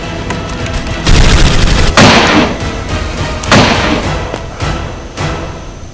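Heavy gunfire erupts in a film scene, with a dense fusillade of loud close shots and rapid bursts, punctuated by several big booming blasts that ring out and decay between volleys.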